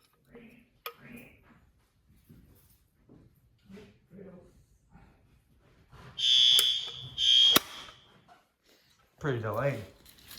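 A school fire alarm set off by a pull station test gives two short, loud electronic tone bursts, then a harsher buzzing horn blast, following quiet talk in an elementary school building.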